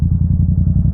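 A Yamaha R7 motorcycle engine idling close by, fresh from an oil change: a steady, loud low rumble with a fast, even pulse and slight mechanical clatter, heard alone.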